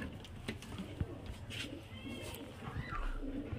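Pigeons kept for flying, sold as quality birds, coo softly and intermittently over a steady low background murmur, with occasional wing or body rustles and faint voices.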